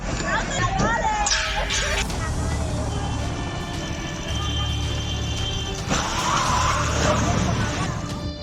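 A truck accelerates forward during a road rage incident, with engine roar and tyre noise loud and close, overlaid by continuous narration.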